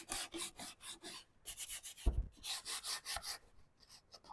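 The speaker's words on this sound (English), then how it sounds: "So now I'm going to go in and sand." Sandpaper rubs back and forth over secondhand furniture with two coats of paint, distressing the finish in quick, rhythmic strokes, close and fairly quiet, with a brief knock partway through.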